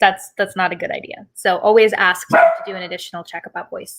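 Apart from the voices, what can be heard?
dog barking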